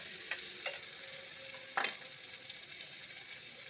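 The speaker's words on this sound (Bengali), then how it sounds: "এবার জিরে বাটা, আদা বাটা, লঙ্কা বাটা, চালমগজ পোস্ত বাটা দিয়ে মশলাটাকে কষিয়ে নেব।" A spice paste of ground cumin, ginger, chilli and poppy seed sizzles steadily in a pan, with a few soft stirring scrapes and clicks breaking through the constant close frying hiss.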